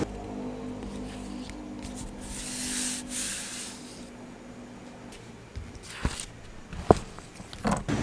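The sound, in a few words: cloth wiping a Sintra board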